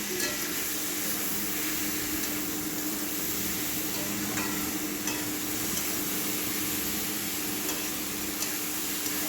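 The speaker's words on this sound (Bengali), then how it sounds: "ছোলা আলুটাকে দিয়ে দিয়েছি দিয়ে ভালো করে কষিয়ে নেবো" Chickpeas and potatoes with chilli powder sauté in a pan for chana masala, a steady sizzle with occasional stirring scrapes running throughout at a close, even level.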